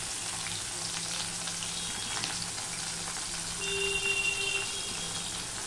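Crushed garlic goes into hot oil while cooking a spicy taro stolon dish, and a steady, close sizzle of frying with faint clinks runs throughout, with no talk.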